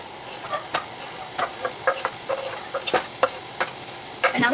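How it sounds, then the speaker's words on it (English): Onion frying in a hot pan for spaghetti meat sauce, a close sizzle broken by repeated sharp scrapes and taps as it is stirred. "since the pan is already hot, we're just going to put in the onion and the garlic"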